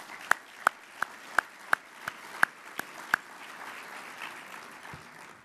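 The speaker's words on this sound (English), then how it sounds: "Please, let's give them all a round of applause." Faint, distant applause at a port's annual address, with one nearby person clapping in a slow, sharp, evenly spaced rhythm over a soft crowd wash that fades out.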